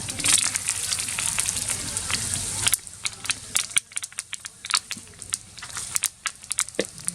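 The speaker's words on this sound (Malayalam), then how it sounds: "ഒരു 4 വറ്റൽ മുളക് ഇതിലിട്ട് കൊടുക്കുന്നുണ്ട്." Four dried red chillies dropped into hot oil, a loud close sizzle that settles into scattered crackling pops and spits as they fry.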